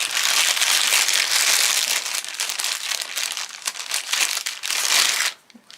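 Close, loud crinkling of a plastic cotton pad packet, dense rustles and crackles that run for about five seconds, then stop abruptly.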